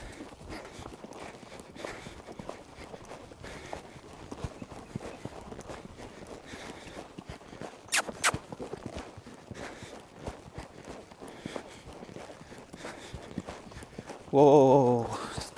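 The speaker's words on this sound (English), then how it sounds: "So we'll go right back to trotting around the round pen" Horse trotting around a round pen, with a steady run of soft, rhythmic hoof beats on dirt under light background noise, then a voice briefly calling out near the end.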